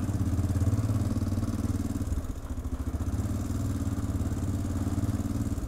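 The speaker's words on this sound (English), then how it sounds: "The clacking is even louder in those small streets here." A broken Honda motorcycle engine runs close by in narrow city streets with a rapid, rhythmic clacking over a low engine drone. The clacking is steady and loud throughout.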